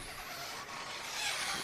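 A 1/10 scale electric RC touring car screeches past at a European championship track race, a continuous high-pitched whine and tyre squeal that swells as it nears, over steady broadband track noise.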